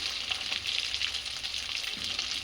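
Chicken frying in a pan on a stove, giving off a steady, close hiss and crackle of sizzling oil that stays even throughout with no voices.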